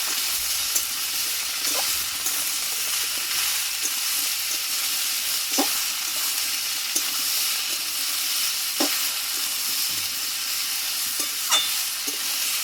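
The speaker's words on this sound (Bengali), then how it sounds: "আলুর সঙ্গে কুমড়োটা ভালোভাবে কষিয়ে নেব" Pumpkin and potatoes frying together in a pan, a loud, constant close sizzle with occasional faint taps and scrapes of stirring across the whole stretch.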